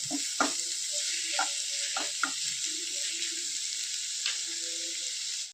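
Bitter gourd sautés in a pan with tamarind water and chili powder, giving a steady bright sizzle with several soft stirring clinks and scrapes spread throughout.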